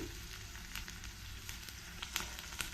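Chilies, ripe tomatoes and fennel seeds fry in oil, a soft, steady sizzle with faint crackles and small pops, quiet and close, with no voices.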